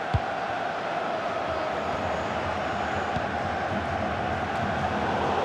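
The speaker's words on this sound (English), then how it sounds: "Being egged on by the crowd." Steady, dense roar of a stadium football crowd in FIFA 23 during a World Cup 2022 match, a continuous wash of cheering noise with no talking over it.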